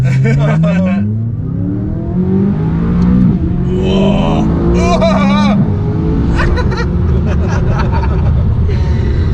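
McLaren 540C fitted with a Larini exhaust launches and accelerates hard, its loud engine note climbing through several gears, rising, dropping at each shift and rising again, while people talk and exclaim over it.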